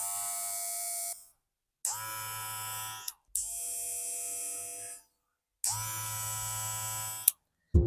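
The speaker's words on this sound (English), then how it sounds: "Now this trimmer is still quiet." A Play hair trimmer fitted with a Psycho Blade runs in three separate bursts of steady electric buzzing, each lasting a second or more, with short silent gaps between them, close and fairly quiet.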